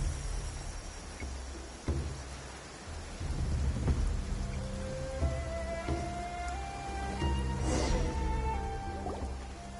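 Video game rainforest weather from Genshin Impact: steady rain patters and drips while low thunder rumbles and rolls in the background, with some faint musical tones layered over the storm.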